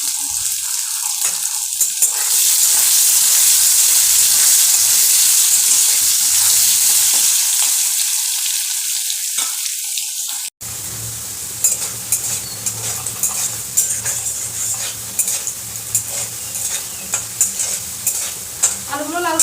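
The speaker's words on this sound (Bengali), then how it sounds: "তেলে এবার আলুগুলোকে ভেজে নেব।" Potatoes frying in hot oil for a Bengali bam fish curry, a loud steady sizzle at first, then quieter crackling with scattered stirring and scraping of a spoon against the pan, no voices.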